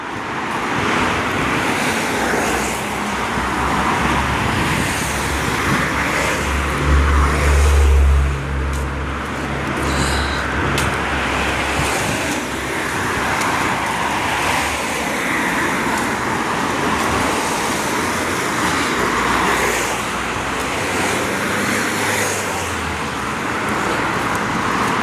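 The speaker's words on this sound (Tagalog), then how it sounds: "mga sasakyan dumadaan." Vehicles pass steadily along a UK road, a continuous roadway rumble with swelling whooshes as cars and a heavier vehicle go by. Wind noise is also present, and no one speaks.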